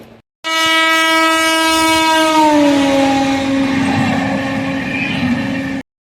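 A train pulling into Khirai station sounds a long, loud, sustained horn that slowly drops in pitch as it passes, over rumbling rail noise, with no talk.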